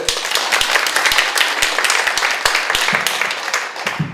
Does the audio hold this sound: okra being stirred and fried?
no